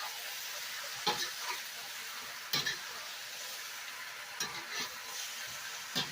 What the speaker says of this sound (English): I just put it in for like stir fry, and we call them saute it